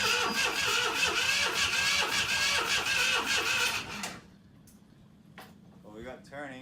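Sailboat engine on a Beneteau Oceanis 350 being cranked over, a rapid rhythmic mechanical churning for about four seconds before it stops, followed by quiet handling sounds and brief speech.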